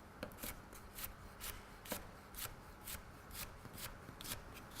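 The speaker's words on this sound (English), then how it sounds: "And then just roll the knife over them into a nice" A knife rocks over diced celeriac on a chopping board, giving a steady run of quick, crisp taps at a close, quiet level, with no talking.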